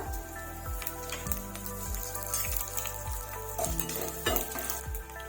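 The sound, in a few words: crushed pepper and dried red chilies frying in a pan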